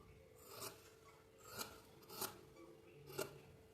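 Sharp scissors snip through blouse fabric in four separate, distinct cuts spaced about a second apart, quiet and close with no talking.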